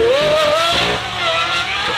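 An Aston Martin Valkyrie engine revs hard nearby, a loud, high, rising mechanical whine that climbs in pitch and then holds with a brief dip, heard alone without speech.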